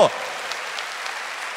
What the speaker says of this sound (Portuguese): Uma salva de palmas para você que respondeu.